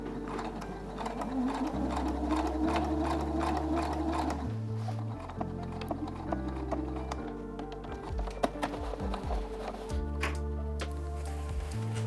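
Sewing machine stitching a seam on a dress, a close, steady mechanical whir and clatter that stops and restarts in several bursts at shifting speeds.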